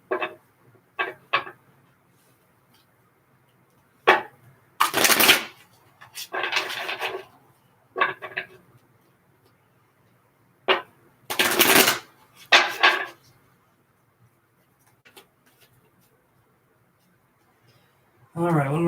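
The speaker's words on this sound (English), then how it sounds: "I want to get a good crispy shuffle." Crisp riffling card shuffles in short bursts, several quick flutters separated by pauses, close by, with a voice briefly at the end.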